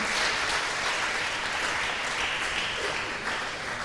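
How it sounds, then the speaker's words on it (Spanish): Church congregation applauding, a steady dense roar of many hands clapping that continues unbroken throughout at full loudness. "Dele otro aplauso al Señor"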